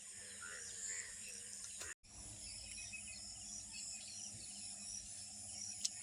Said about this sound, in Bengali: এইভাবে ব্যাঙ খালি ডাকছে